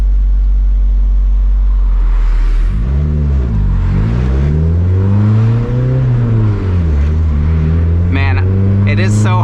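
A K24-swapped Mazda Miata MX-5 is being driven, its engine droning loudly up close at low rpm and then rising and falling through several gentle revs, with a brief higher whine near the end.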